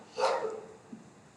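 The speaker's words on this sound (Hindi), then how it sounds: "कुत्ते भौंक रहे हैं, आपको शायद ये आवाज़ें आ रही होंगी" Dogs bark at night around 4 a.m., a single distant-sounding bark rising faintly over a quiet background hiss, with no talk.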